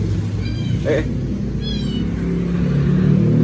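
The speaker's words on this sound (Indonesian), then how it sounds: "Dan di sini ada kucing mau lompat ya." A cat meows twice, two short harmonic cries about a second apart, over a steady low engine-like rumble, with no talk alongside.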